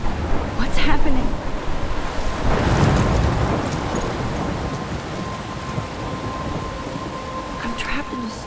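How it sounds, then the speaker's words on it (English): A thunderstorm with heavy rain plays in the video game Life is Strange, steady loud rainfall with a deep rumble of thunder swelling early and fading, and a few sharper cracks against the downpour. "I'm trapped in a storm?"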